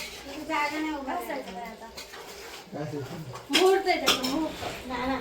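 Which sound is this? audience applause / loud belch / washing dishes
washing dishes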